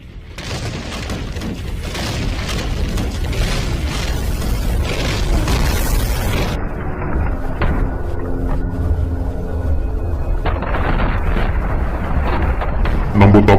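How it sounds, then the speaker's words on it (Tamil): Bomb explosion in a film scene: a loud, sustained roaring blast with crackling debris and rumble, later dropping into a muffled, rumbling tail with ringing tones. "நம்ம தப்பான இடத்துல பாம்பை வெடிக்க வச்சிட்டோம் சார்."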